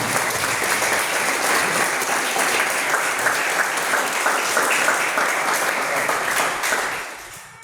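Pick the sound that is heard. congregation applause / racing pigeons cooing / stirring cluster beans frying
congregation applause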